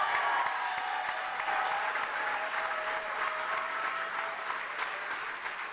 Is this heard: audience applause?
yes